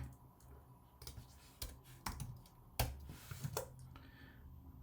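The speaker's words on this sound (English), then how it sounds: "So whatever text we are typing in this text" Keys tapping on a computer keyboard in scattered, uneven bursts, close and fairly quiet, with distinct clicks separated by short pauses and no voices.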